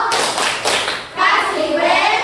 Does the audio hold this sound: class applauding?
yes